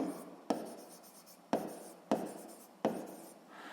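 Pen writing on paper during a physics exercise, four or five distinct scratchy strokes each starting with a sharp tap and trailing off, quiet and close with no talking.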